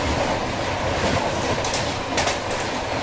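Jammu Tawi Ajmer Pooja Express train passing on the track through green Rajasthan countryside, heard from aboard a double-decker train as a loud, steady rumble with wheel clatter and a few sharper bursts.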